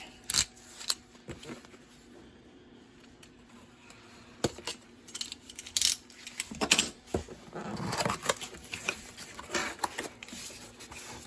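Scissors snip and slice into the packaging of a DC Multiverse Catwoman and Batpod toy set, giving sparse, close cuts and plastic rustles with a few sharper snaps, all without talk.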